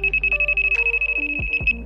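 An R4 carp fishing bite alarm emits a rapid run of identical high electronic beeps, about a dozen in quick regular succession, loud and close, with a few lower tones and soft clicks near the end.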